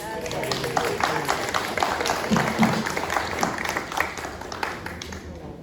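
An audience at a dance panel discussion in a library applauds, a steady wash of many hands clapping at moderate volume for several seconds, with some murmuring beneath.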